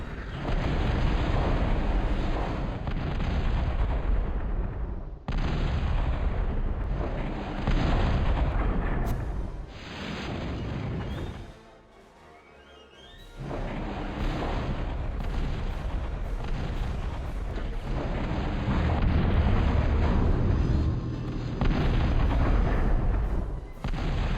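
Air bombing in the Total Annihilation strategy video game, a long run of heavy, rumbling explosions and booms that keep rolling on, with a brief quieter gap partway through.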